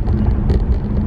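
A car driving along a road, heard from inside as a steady low engine and road rumble with no voices, loud and continuous for about a second.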